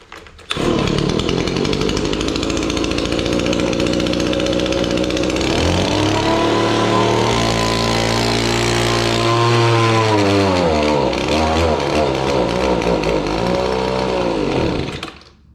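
An Echo PB-1000 leaf blower with a newly replaced HiPa carburetor runs as a loud, continuous two-stroke engine roar close by. The pitch rises and falls as the engine revs, then it cuts off at the end, with no talking.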